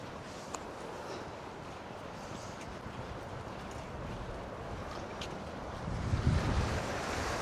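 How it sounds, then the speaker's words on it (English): Small, gentle waves wash onto a beach at Sutton on Sea in a westerly wind, a constant rushing hiss with wind buffeting the microphone that swells slightly toward the end. "The waves are little waves. Not big waves."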